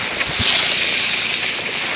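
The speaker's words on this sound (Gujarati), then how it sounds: "ફર્સ્ટ ક્લાસ પાણી સાથે વહેતું હોય અને જોઈ શકો છો તમે" Floodwater flows through a flooded village during heavy rain, a loud, steady broadband rush with no break, heard up close and without talk.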